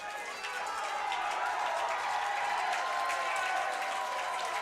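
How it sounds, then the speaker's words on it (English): Crowd of English supporters cheering and celebrating at an under-20 football final against Germany, a steady broad roar of many voices filling the whole clip after a brief softer start. "The English fans are celebrating, cheering on their under-20 team here"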